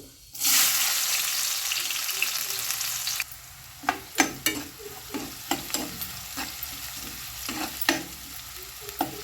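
Fenugreek seeds and onions fry in hot oil for a fish curry: a loud, steady sizzle at first, then a softer hiss broken by repeated clinks and scrapes of stirring, with no voices.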